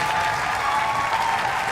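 An audience at a performance premiere claps steadily in a dense, even wash of applause for the whole short stretch.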